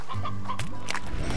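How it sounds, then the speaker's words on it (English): Briar hen from the Slime Rancher video game clucking close and loud, a few short squawks with a rising chirp, set over game ambience and no talking. "Another briar hen."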